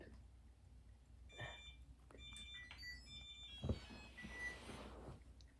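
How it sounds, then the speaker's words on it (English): A kitchen-style timer alarm goes off in a workshop, sounding as a few faint, high repeated beeps at a low level beneath general shop noise. "I think my timer went off."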